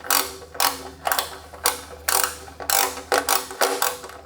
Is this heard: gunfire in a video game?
no